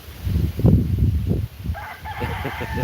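A rooster crows loudly and close by outdoors, a long throaty call with a rising and falling shape, followed by a second bird's higher, fainter crow in the background.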